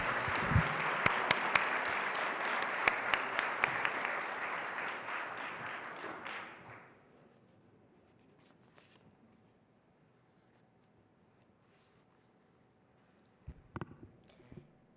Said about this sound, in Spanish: Recibámosla con un muy fuerte aplauso,